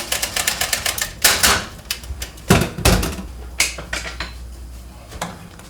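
A spaetzle maker slides back and forth over a pot of boiling water, giving a run of quick rhythmic metallic clicks and scrapes with a few louder clunks, close and clear with no talking.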